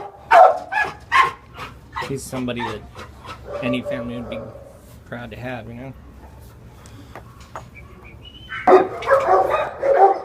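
Dogs bark and yip at an animal shelter, sharp repeated barks echoing near and far while someone talks over them.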